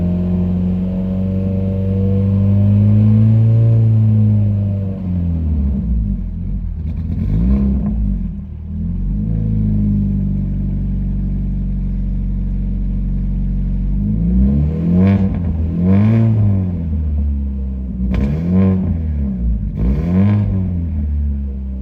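Chevy Cruze engine after a coil upgrade, idling with a steady low rumble before several sharp revs rise and fall near the end, loud and close with no talk.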